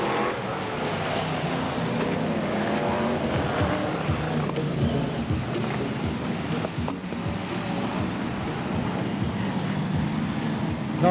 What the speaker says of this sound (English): Car streaming over the line there.